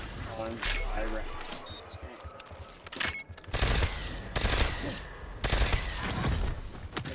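Ray Gun MK II energy weapon fired in Black Ops 7 Zombies, a few bursts of sci-fi blasts with sharp zaps and crackles over busy game noise and combat effects, with a voice talking throughout.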